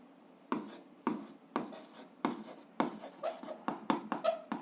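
Pen writing on paper during an algebra exercise, a series of close, crisp scratching strokes that come in quick, irregular bursts and grow more rapid toward the end.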